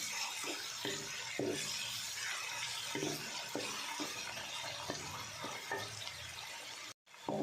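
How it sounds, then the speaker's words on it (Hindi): Onions fry in a pan with roasted spices and give a soft continuous sizzle, marked by repeated stirring scrapes at a loose rhythm. The sound is fairly faint and close, and it cuts out briefly near the end. "अब इसमें प्याज शामिल कर देंगे। इसे अब फ्राई कर लेंगे हल्का सा गोल्डन होने तक।"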